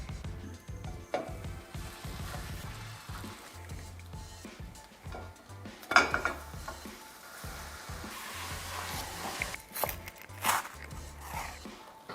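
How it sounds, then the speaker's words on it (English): Butternut squash and tomato soup with rosemary and basil simmers in a pot, giving a low bubbling, sizzling texture with occasional stirring clinks and knocks, fairly quiet and close, with no one talking. "Just let that simmer for a little bit while we work on the grilled cheese."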